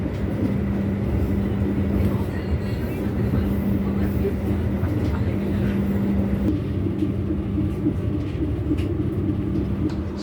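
An Argo passenger train departing Gambir station, heard as a low, steady rumble with a faint tonal hum, continuous and moderately distant throughout.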